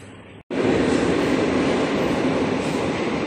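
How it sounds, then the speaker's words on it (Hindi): A Lisbon metro train rumbles loudly inside Alameda station, a steady roar that starts abruptly after a brief quieter moment and continues without talk. "ये है यहाँ का मेट्रो स्टेशन अलमेदा का अंदर की तरफ"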